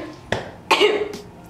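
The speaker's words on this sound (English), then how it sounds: "sorry for my really bad cough" Two short, harsh coughs with a pause between them, loud and close, from a person who has bronchitis, with no talking.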